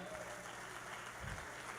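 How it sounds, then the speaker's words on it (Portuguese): A church congregation applauds in a steady, faint wash of clapping that fills the whole short moment. "Você pode aplaudir a Jesus pela vida dela?"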